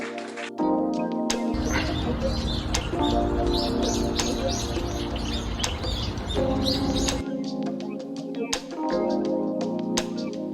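A small bird chirps in rapid bright bursts, close and busy, filling several seconds with a dense flurry of tweets, then thinning to scattered calls.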